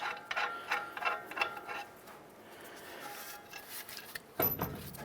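A lower ball joint nut being threaded on a 2011-2018 Ram 1500 during a wheel bearing and hub replacement gives faint metallic ratcheting clicks and small mechanical rattles, with a sharper clatter near the end.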